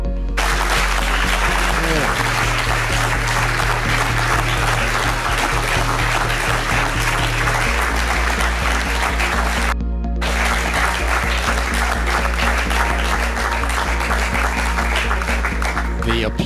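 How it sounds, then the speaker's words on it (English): Applause erupts inside a satellite launch control room in Jupiter after the PERU SAT-1 satellite separates, a steady roar of clapping filling the room throughout under a persistent low mechanical hum. "The applause erupted here in Jupiter."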